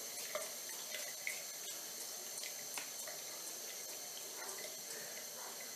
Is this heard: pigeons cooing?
no